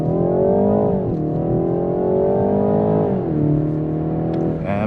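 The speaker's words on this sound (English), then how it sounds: "Acceleration test." 2019 BMW 330i accelerating hard from inside the cabin, a loud engine drone rising in pitch through two gear changes, each upshift dropping the tone before it climbs again.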